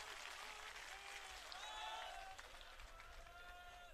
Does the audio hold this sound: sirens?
no